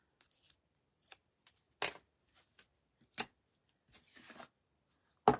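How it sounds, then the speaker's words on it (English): Scattered sharp crinkles and snaps of backing paper being peeled off a heart stand craft kit piece, close and isolated, with quiet gaps between them. "Then we're going to peel this guy off."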